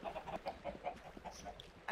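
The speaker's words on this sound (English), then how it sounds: "chickens right here." Minecraft chickens clucking on an animal farm in the video game, a quick series of short, repeated clucks in a steady rhythm, close and clear with no speech.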